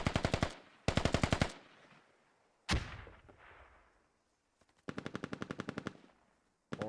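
Rapid automatic gunfire in a video game scrim on the Gorodok map, loud close bursts of machine-gun fire broken by a single sharp shot with a trailing echo and short pauses between volleys.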